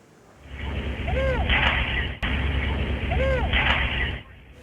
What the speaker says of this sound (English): The gunshots captured on cell phone video.